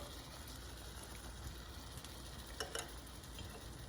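Cayenne pepper, smoked paprika, brown sugar and garlic powder are stirred together in a steady, faint scraping swirl under a constant background hiss, with a couple of slightly louder strokes.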